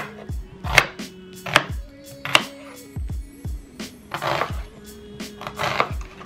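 A knife chops onions on a cutting board, sharp woody knocks in a steady, uneven rhythm of about nine strikes, close and clear with no talk.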